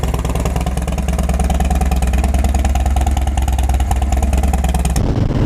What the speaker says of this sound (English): let's do a cold start because people like cold starts